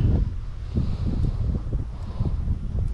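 Gusty outdoor wind buffets the microphone during tenkara fly fishing with a level line: a steady low rumble that swells and dips throughout, with no voices.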